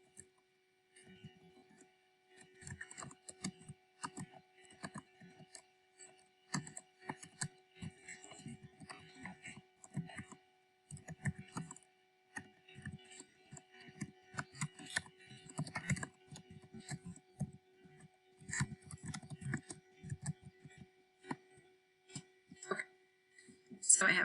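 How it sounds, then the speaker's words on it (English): Fairly faint, irregular clicking of someone typing a sentence on a computer keyboard, continuing in uneven bursts over a low steady hum. "I'm going to type it as well."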